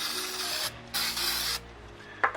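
Cleaner sprays from an aerosol can onto a motorcycle chain in two close, hissing bursts, each lasting about half a second, followed by a brief faint clack.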